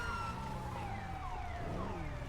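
A police car siren in GTA roleplay on the NoPixel server wails loud and close. Its rising and falling sweeps overlap continuously for the whole stretch, with no talking.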